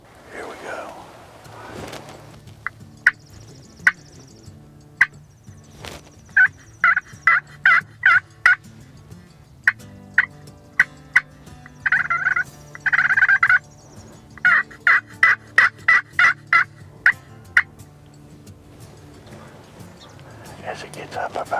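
Wild turkey toms gobbling in open country in Chesterfield County, repeated rapid gobbles in bursts, some overlapping from several birds at moderate distance, against quiet background with a few sharp knocks.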